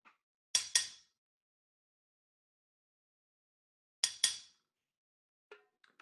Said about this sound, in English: And I'll demonstrate your part, the responses, on the frying pan.